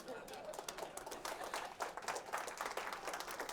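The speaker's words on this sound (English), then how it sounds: "You're clapping for her courage." A conference audience claps in a dense, fairly soft patter that continues for several seconds, heard from a distance, with some talk mixed in.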